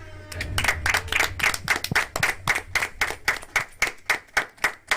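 Applause from the audience at a pop-up birthday show, heard as a small group clapping in a clear, fairly regular rhythm of sharp close claps that runs on without a break.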